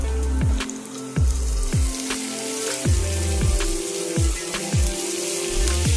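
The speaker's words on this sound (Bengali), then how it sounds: "আদা এবং রসুনটাকে যতক্ষণ না এটার কাঁচা গন্ধ যাচ্ছে ততক্ষণ ভালো করে ভেজে নেব।" Grated ginger and garlic frying with onions in a pan, a steady close sizzle with repeated stirring strokes scraping through it at a regular pace, no talking.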